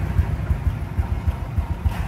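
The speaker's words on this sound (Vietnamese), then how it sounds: "Máy nổ anh em nghe chưa?" A Honda Wave ZX 100 motorcycle engine idles close by with a low, rhythmic thumping beat, regular pulses under a soft background hiss.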